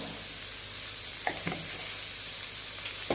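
Cumin seeds and asafoetida sizzle in hot oil in a steady, close frying hiss, with a couple of light knocks from a spoon midway and no talking.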